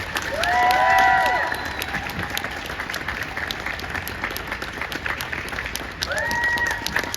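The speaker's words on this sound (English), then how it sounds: "let's give a final round of applause for Betsy Tulloch." Audience applause at a convention Q&A panel, steady clapping across the room with a swell at the start and again near the end, while an amplified voice talks briefly over it.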